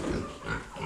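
Pigs on a small farm grunt loudly and continuously at close range, with rough, overlapping snorts filling the whole moment.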